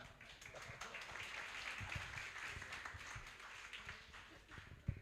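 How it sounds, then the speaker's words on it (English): An audience at a fight promotion anniversary show claps and applauds steadily from a crowd, with a dense, sustained patter of hands and one sharp louder clap near the end, without speech. "Thanks for a round of applause."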